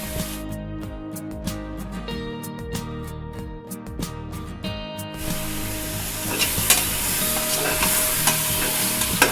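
Marinated chicken pieces sizzle loudly as they go into a hot pan for chicken biriyani, followed by steady frying and the repeated scrape and clatter of a spoon stirring, with no talking.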